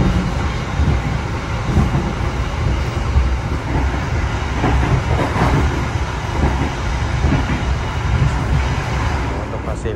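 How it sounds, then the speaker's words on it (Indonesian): Inside a K1 New Image carriage of the Argo Muria train at speed, a steady low rumble and rattle of wheels on the tracks roars continuously, loud and close, with no talk over it. "Ini di kecepatan segini aja gemelodaknya udah mulai kerasa ya teman-teman."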